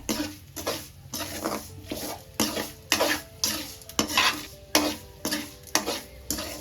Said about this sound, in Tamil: எல்லா பொடியும் சேர்த்து ஓரளவு நல்லா வதக்கியாச்சு.